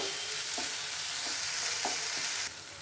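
Green chillies and tomato frying in a pan for spicy street-style macaroni, a steady close sizzle with a few soft stirring scrapes, alone without talk.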